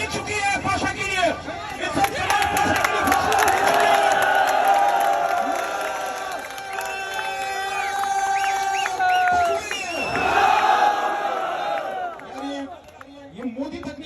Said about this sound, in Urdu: اب آخر میں تھوڑے 1-2 نعرے تکبیر کے